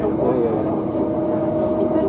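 A Southern Class passenger train runs between Wivelsfield and Lewes, heard from on board as a loud, steady, continuous rumble and rattle with no breaks.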